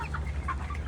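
Five-week-old broiler chickens in a homestead pen make soft, overlapping clucks and short peeps over a steady low hum, close by and busy, with no voices.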